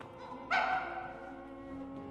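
A cartoon dog from a French animated film gives one sudden sharp yip, then a drawn-out whimpering whine that fades over about a second and a half, moderately loud with no talking.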